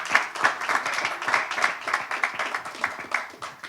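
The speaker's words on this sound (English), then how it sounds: "Big round of applause for Tejas Mahajan." A small audience applauds a senior national pickleball player at a sports press conference, the clapping brisk and uneven with distinct individual hand claps, fairly near and steady for a few seconds with no talk over it.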